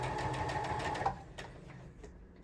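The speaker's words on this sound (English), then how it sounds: "Place your foot back down and continue sewing." A sewing machine stitches tote bag lining fabric in a fast, close rhythmic run that stops after about a second, followed by faint handling noises.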